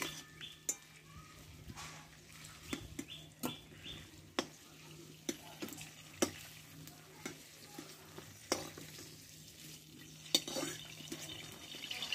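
Pointed gourd frying in hot oil, a low continuous sizzle punctuated by regular clinks and taps of a spatula against the pan as the pieces are stirred and lifted, faint and close.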